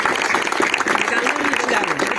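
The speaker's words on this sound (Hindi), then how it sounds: "तालियां बजाएं सब लोग।" An audience at a school event in the Hoshangabad area claps, dense continuous applause from a crowd, fairly close, with a voice speaking over it.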